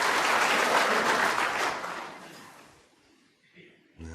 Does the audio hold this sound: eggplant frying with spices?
no